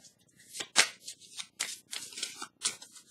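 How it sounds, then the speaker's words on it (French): A tarot card slips and shuffles against the deck during a draw, giving a few quiet, brief papery swishes and flicks heard close and alone. "Oups, la carte a glissé."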